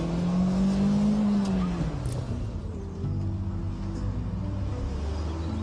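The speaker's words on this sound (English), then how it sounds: "Handbrake, brakes, reverse gear, get up the speed, flick, hit the foot brake, ram first, and declutch." A front-wheel-drive car doing a handbrake reverse flick turn, its engine droning loudly throughout with a rising then falling pitch as it builds speed and swings around, tyres faintly scrubbing, with no talk.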